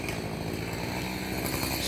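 Chainsaw cutting up a freshly felled backyard tree, a steady loud buzzing engine drone running unbroken and close throughout.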